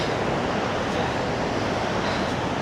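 A waterfall in Yosemite roars as a loud, steady rush of broadband water noise, continuous and close, with no speech over it.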